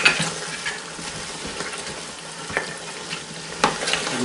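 Chicken with tomato, sugar, salt and paprika being stirred in a GM electric pot, a soft continuous sizzle with intermittent scraping taps of the spoon against the pot, fairly close and steady.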